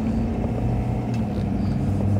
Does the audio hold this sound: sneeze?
no